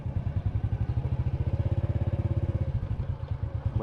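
Motorbikes riding around That Luang stupa in Vientiane, their engines producing a loud, steady, close throbbing pulse that continues unbroken for the whole stretch, with no talk.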